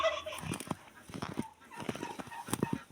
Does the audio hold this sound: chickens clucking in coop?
yes